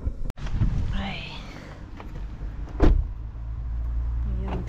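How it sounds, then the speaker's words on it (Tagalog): A car in Finland pulls away as rain begins, with a sharp thump early on, then a low engine rumble that rises and swells near the middle, and a voice heard briefly. "Ayan, drive na tayo dun sa Mr. Bean natin"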